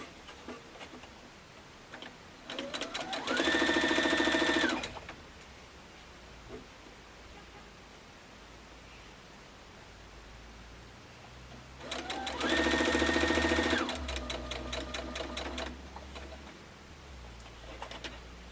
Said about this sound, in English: I'm going to bring this over to my sewing machine and sew it